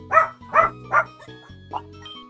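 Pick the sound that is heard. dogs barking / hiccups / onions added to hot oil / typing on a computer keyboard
dogs barking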